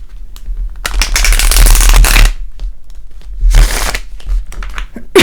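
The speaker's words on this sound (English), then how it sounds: "I will do a last shuffle, and then I'll place the cards one by one." Two bursts of tarot cards being riffled and shuffled, a long crisp flurry then a shorter one, close and loud with quiet gaps between.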